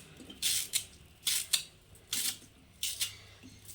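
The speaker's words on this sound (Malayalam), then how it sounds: "നമ്മളിതിങ്ങനെ അരിയാനൊക്കെ നല്ല സുഖമാണ്" Knife slicing through spongy colocasia (taro) stem in repeated crisp strokes, four quick bursts of cutting at a steady rhythm, close by and moderately loud, with no talk.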